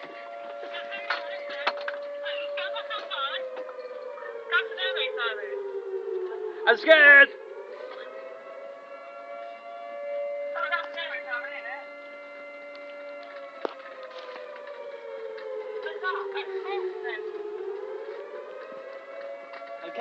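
An air raid siren wails steadily with slow rising and falling pitch, played as a prank, while a voice talks over it in short bursts.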